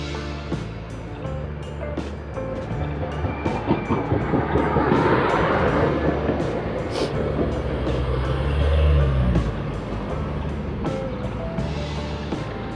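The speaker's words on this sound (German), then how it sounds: "Eine der Freiburger Straßenbahnen." A Freiburg street tram rolls past outdoors, a rumbling swell of wheels and motor building to a loud close pass mid-clip, with sharp metallic clicks and squeals over it, then easing away.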